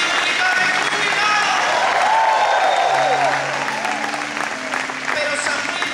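Church congregation applause during worship, loud continuous clapping from a crowd with voices and a sustained musical tone underneath, easing slightly toward the end.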